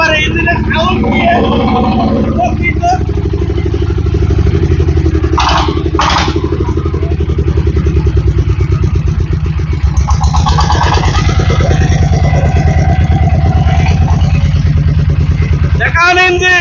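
A Changfa diesel engine runs loudly up close with a fast, steady chugging thump and rattling clatter, while someone talks over it and brief sharp knocks break in.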